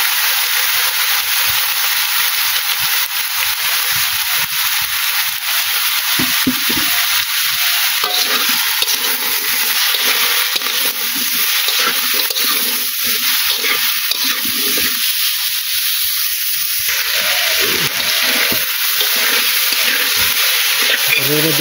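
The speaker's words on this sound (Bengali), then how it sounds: "মশলা মশলা কষানো হচ্ছে।" Potatoes and vegetable stems frying with spices in a pan over a village cooking fire: steady loud sizzling hiss with repeated stirring scrapes, and a voice speaking in places.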